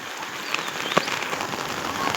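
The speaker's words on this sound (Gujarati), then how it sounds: "વરસાદ આવી ગયો વરસાદ" Steady rain falls and patters on surfaces outdoors, a continuous soft hiss with a few sharper drop ticks, moderately loud and without any talking.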